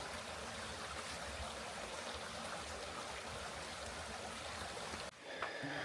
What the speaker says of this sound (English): There's a nice little creek right down the hill.